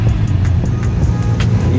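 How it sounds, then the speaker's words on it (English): Several car engines start up and rumble steadily nearby at a night car meet, a continuous low drone with faint clicks and rattles over it. "Everyone is starting up the cars."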